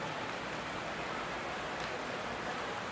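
Steady rain falls on a football ground beside an estate in Gambia, a dense, even hiss that holds unbroken throughout at a moderate level.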